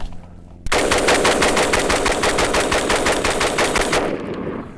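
A Bear Creek Arsenal AR-15 rifle fires 20 rounds of PMC Bronze .223 in a rapid, even string of loud, close shots lasting about three and a half seconds, then stops.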